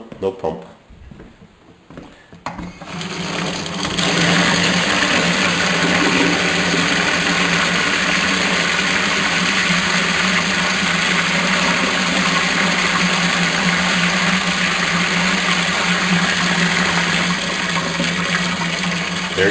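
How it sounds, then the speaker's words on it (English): A household water pump on a PEX and copper plumbing system kicks on after a couple of quiet seconds and runs as a loud, steady hum with rushing water, continuing unchanged to the end. "That water pump will start up in a few seconds"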